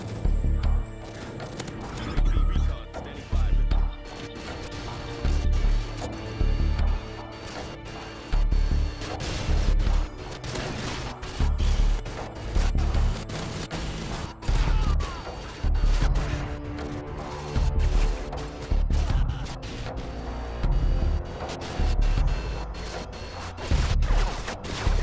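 An M93 Raffica machine pistol fires repeatedly in Call of Duty: Modern Warfare 2 (2009), loud, punchy bursts arriving at a steady rhythm with short pauses between them, close and dominant throughout.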